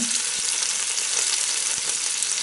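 Roast beef sizzling in a Ninja Foodi, a steady close hiss of frying fat with faint crackles and pops, continuous and even throughout with no talking.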